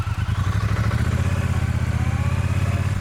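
A Triumph Bonneville T120 motorcycle engine running on a test ride, with a loud, close, low rhythmic twin-cylinder throb pulsing evenly and continuously.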